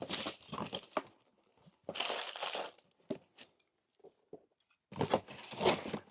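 Cardboard shipping box being cut down and resized, flaps trimmed off: bursts of crinkling, crunching and tearing cardboard close by, separated by short quiet gaps and a few small taps, with no talking.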